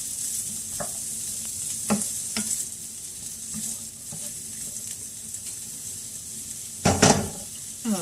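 Ground turkey keto meal prep sizzles steadily in a pan, a continuous close frying hiss with occasional scraping stirs and a louder clatter near the end, no talking.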